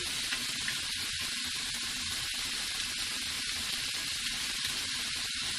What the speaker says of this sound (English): Let that start sauteing in the pan with my olive oil.